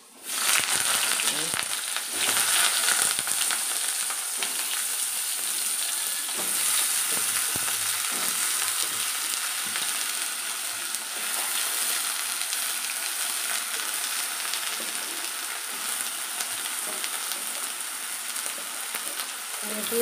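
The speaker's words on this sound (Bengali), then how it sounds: "দেখো তেল গরম হয়ে গেছে, আমি আগে বেগুনটা ভেজে নেবো।" Steady, crackling sizzle of eggplant frying in hot oil, continuous and close, with occasional stirring scrapes and no one speaking.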